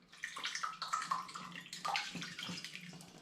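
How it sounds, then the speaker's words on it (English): Rhubarb water is poured through a filter, making splashy, gurgling liquid sounds in uneven bursts, close and fairly quiet, with no speech. "So as neatly as possible, I'd like to try and pour this through the filter."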